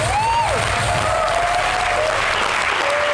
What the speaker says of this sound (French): que je vous demande d'applaudir très fort.